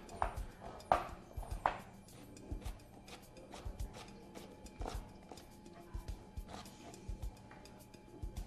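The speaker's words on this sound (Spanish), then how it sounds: "Vamos a picar acá la cebolla" A knife chopping onion on a cutting board, irregular crisp taps, a few sharper and louder ones at the start, then softer, uneven cuts continuing up close.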